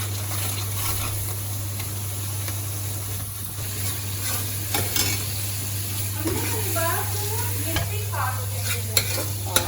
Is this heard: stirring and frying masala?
yes